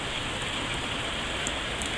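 Steady rain falls outside while a dog is being let out in it, a dense, even hiss of drops on surfaces that carries on without a break and with no voices over it.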